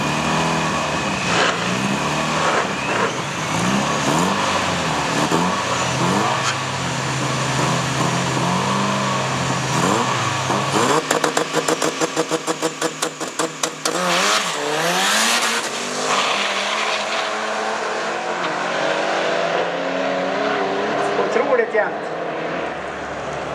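Street-car drag racing cars, one a Mustang, accelerate hard at a sportsman-class event, with loud roaring engines and rising revs over crowd and track noise, and a commentator speaking over it.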